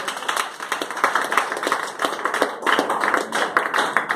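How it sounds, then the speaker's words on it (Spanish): A church congregation claps during a Spanish-language service, quick overlapping hand claps forming a lively, slightly rhythmic burst of applause that stays fairly close and loud throughout. "Denle un aplauso al Rey."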